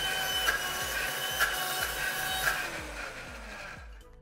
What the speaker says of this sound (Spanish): Ok, nos da el poder en automático y vamos a licuar.